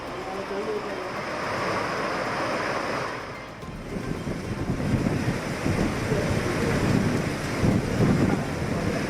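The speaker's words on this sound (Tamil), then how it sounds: "ராமநாதபுரம் மாவட்டம் பாம்பனில் மேக வெடிப்பு காரணமாக அதி கனமழை." Heavy cloudburst rain at Pamban, Ramanathapuram district, Tamil Nadu, pours in a dense, steady roar with gusty wind noise, loud and continuous, occasionally swelling in intensity.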